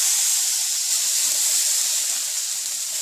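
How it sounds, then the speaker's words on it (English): Rava dosa batter of semolina sizzling on a hot griddle, a loud, steady, close hiss that holds evenly throughout with no talk. "sprinkle the batter on the griddle"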